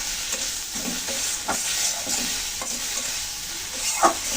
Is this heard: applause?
no